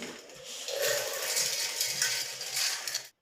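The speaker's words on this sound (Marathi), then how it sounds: "हा सुद्धा मी आता मिक्सरला ग्राइंड करून घेते" A kitchen mixer grinder whirs loudly and continuously as it grinds dried ingredients for gond and methi laddoos, with a gritty rattling texture before cutting off abruptly.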